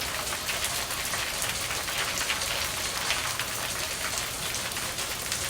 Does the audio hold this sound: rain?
yes